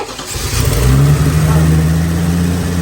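A Chevy K10 squarebody truck engine runs loudly up close, rising into a steady low rumbling drone through its exhaust, with a voice speaking over it.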